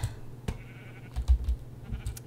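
Sheep bleating in Minecraft while shearing sheep, heard as a few short, fairly faint low calls spread across the moment with light clicking around them and no talk.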